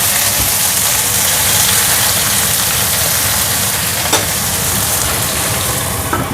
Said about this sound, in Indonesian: aku tambahin batangnya daun bawang. Ini aku digoreng